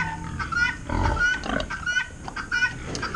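Hogs on a homestead farm grunt and snort close by in short irregular bursts, with faint bird calls mixed in behind.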